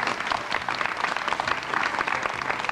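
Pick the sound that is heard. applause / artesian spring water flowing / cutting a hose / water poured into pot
applause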